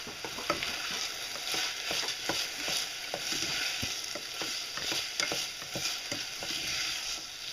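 Vegetables sizzle in a hot pan while a utensil stirs and scrapes them in quick, irregular taps, close and continuous, with no voices.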